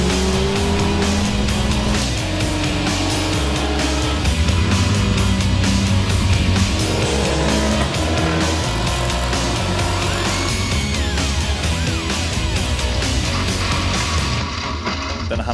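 Volkswagen Castrol Cup race cars battle closely on a circuit, engines roaring loud and continuous for the whole stretch, revs rising and falling through gear changes with brief tire squeal, no talk over it.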